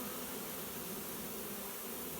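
Honeybees fanning at the entrance of a hived swarm in a swarm trapping box, a steady, even hum of many wings held close and level with no talk.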